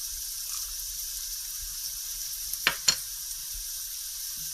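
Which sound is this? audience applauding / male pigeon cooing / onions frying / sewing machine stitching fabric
onions frying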